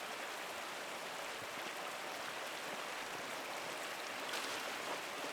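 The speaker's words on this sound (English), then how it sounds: "The waterfall must flow down from the snowmelt in the mountains above the abbey." A waterfall fed by mountain snowmelt near an abbey in the video game Pentiment gives off a steady, even rush of water that continues unbroken throughout, with no talking.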